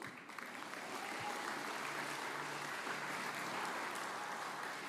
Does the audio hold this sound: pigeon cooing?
no